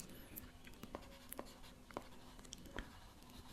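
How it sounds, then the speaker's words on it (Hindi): Hand writing on a classroom board during a physics lesson: a quiet run of short scratchy strokes and light taps, several close together, with no talk over them. "यहां लिखते हैं"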